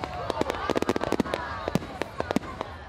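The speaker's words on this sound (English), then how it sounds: "Parramatta and Campbelltown among those staging their own firework festivals." Fireworks bursting over Sydney during New Year celebrations, a dense volley of sharp cracks and booms in quick irregular succession, fairly close, with crowd voices faintly underneath.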